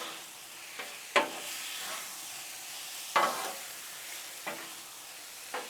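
Cheesesteak with melting pepperjack cheese mixed on a Blackstone griddle, a soft steady sizzle with a few sharp spatula scrapes spaced seconds apart, close and without talk.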